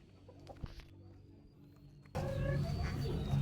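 Native black hens and a rooster give a few faint clucks against a quiet background, then a louder, noisier stretch of farmyard sound takes over.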